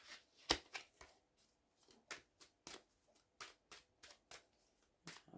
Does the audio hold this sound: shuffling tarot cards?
yes